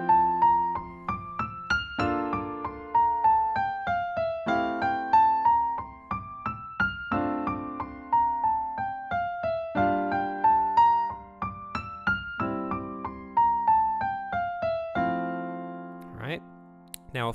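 Jazz scale phrases on a tuned instrument in straight, even rhythm without dotted eighth notes, rising and falling in repeated runs of clear, plucked-sounding notes, played alone at moderate volume and ending on a few held chords.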